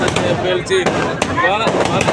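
Firecrackers burst in a city street in Nellore during a festive celebration, several sharp separate pops breaking through close, continuous talking.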